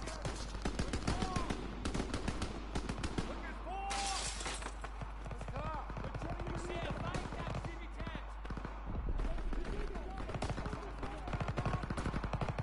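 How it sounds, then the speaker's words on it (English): Call of Duty: WWII gunfire, with dense, continuous bursts of automatic weapon fire and sharp single shots layered over battle noise, close and loud throughout, while voices call out amid the shooting. "Gunfire this way."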